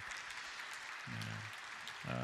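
Applause from a church congregation for a worship band, a steady wash of clapping held through the clip, with low musical tones rising underneath in places.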